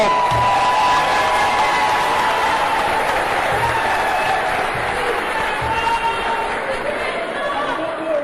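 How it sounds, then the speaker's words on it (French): Audience at the Cameroon Ballon d'Or award ceremony applauding loudly and continuously, a dense wash of clapping mixed with crowd chatter and scattered cheers. "je voudrais vous prier d'applaudir une fois de plus pour nos U17 qui sont sacrés champions du tournoi UNIFA"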